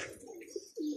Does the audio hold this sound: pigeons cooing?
yes